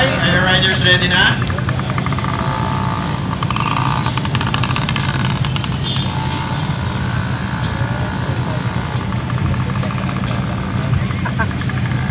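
Motorcycles run slalom laps at a moto fair event, with a steady engine drone and buzzing revs throughout, heavily overlaid by talk and crowd noise.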